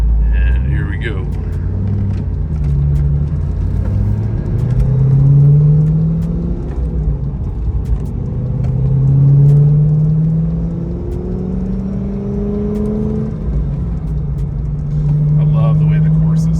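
A Corvette engine with Corsa exhaust rumbles and rises in pitch through several gear pulls, a deep throaty exhaust droning steadily up close.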